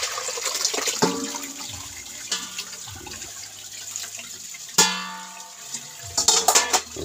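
Small dulong fish being rinsed under a running tap, with water splashing and gurgling into a sink in bursts and louder splashes near the end.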